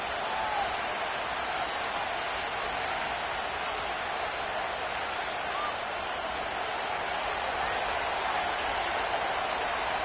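Dense, steady stadium crowd roar from a Madden 25 American football game at Gillette Stadium in Foxborough, Massachusetts, a continuous wash of cheering that holds at an even level for the full stretch with no single voice standing out.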